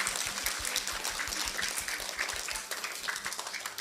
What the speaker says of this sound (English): Can everyone give Hillary a round of applause?